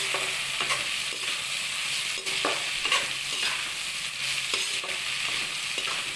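Shredded cabbage stir-fried in a pan for homemade chow mein, a dense close sizzle broken by regular spatula scrapes and tosses at a steady rhythm, with a faint low hum behind.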